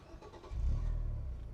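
A 2014 Nissan Sunny car engine cranks and catches, building quickly into a loud, steady low rumble that holds close by after a brief quieter lead-in.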